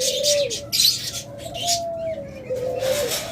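White doves cooing close by, soft repeated low coos with some chirps from other birds in a busy aviary.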